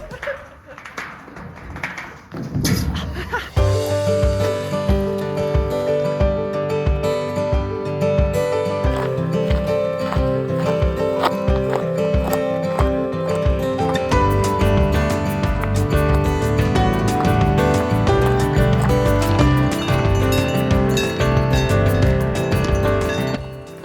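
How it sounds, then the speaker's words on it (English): Cowbells on grazing cows ring along a Swiss hiking trail between Schynige Platte and Grindelwald First near Interlaken. The clanking is steady and fairly close, with overlapping tones that continue throughout, and a person talks along the way. "I already can hear these cowbells, and there's cows right over there"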